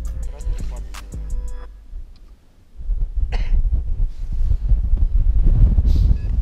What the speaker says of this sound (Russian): ветер усилился и стало попрохладней